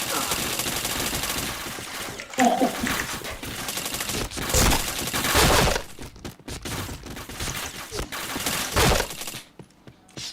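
Rapid video game gunfire fills a busy soundscape, with sharp cracks, fast bursts and a brief glassy shatter near the start. A voice briefly cuts through the loud continuous action.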